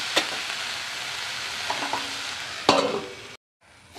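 Mixed vegetable chorchori stirred in a pan with spices and no water, giving a steady close sizzle broken by a few scraping spoon strokes, then a brief drop to near silence before the frying resumes faintly.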